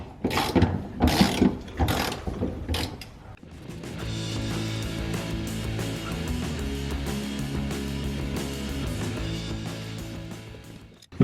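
A Toyota Supra drive shaft is worked free during a manual conversion: a few sharp metallic clanks and ratcheting knocks up close, then a steadier mechanical rumble and grinding as the shaft slides out.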